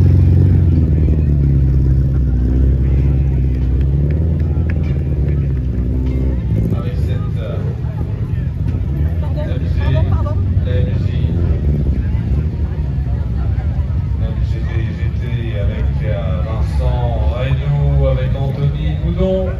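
MGB GT V8 rally car at full throttle on a Tour de Corse Historique special stage, a loud, steady V8 engine roar with wind buffeting throughout and rising revs toward the end; voices talk over it.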